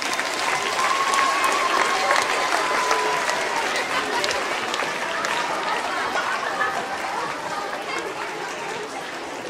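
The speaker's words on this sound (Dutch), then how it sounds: "Geef ze een groot applaus" A hall audience at a carnival session applauds a group that just sang, sustained broad clapping from a large crowd with faint chatter mixed in, slowly easing off toward the end.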